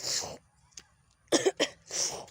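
A person with a cold coughs a few times, with a short breathy burst, a pause, then a quick pair of coughs and a final rasping exhale, close by.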